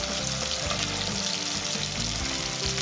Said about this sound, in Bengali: পেঁয়াজটা দিয়ে দিলাম। পেঁয়াজটা একটু নাড়াচাড়া করে দেবো।